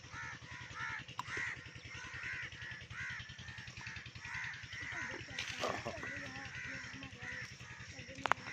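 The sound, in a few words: crows cawing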